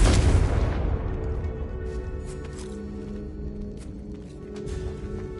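A Confringo blasting spell explodes in Hogwarts Legacy, a loud deep boom at the start that decays into a rumbling tail with faint scattered clicks afterward.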